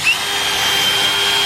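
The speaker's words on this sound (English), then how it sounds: "we're going to drill at a slight angle" A power drill bores angled screw holes into a wooden 2x4 for a raised garden bed, a loud, steady high whine held for the whole short burst.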